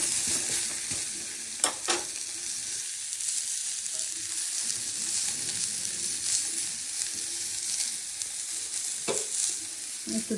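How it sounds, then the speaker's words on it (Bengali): Brinjal frying in oil in a covered pan, a steady dense sizzle holding for the whole stretch with a couple of brief clatters of utensil or lid, no voices. "তাই একটু বেগুনটাকে ঢাকনা দিয়ে ভেজে নিচ্ছি।"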